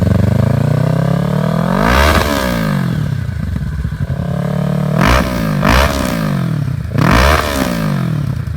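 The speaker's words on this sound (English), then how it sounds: "the Z650, the Z400, and several other machines from other manufacturers use what's called a flat plane crank, and this gives it a really ricey sound if you put an exhaust on it" Kawasaki Z650 with an aftermarket exhaust and flat-plane crank parallel twin, revved hard and close up, with several sharp rising and falling throttle blips over a loud, raspy idle.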